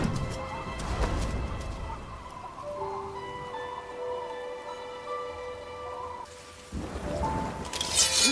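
Heavy rain and wind at night: a steady, dense downpour hissing throughout, with sustained tonal music layered over it and a brief lull before the rain swells again near the end.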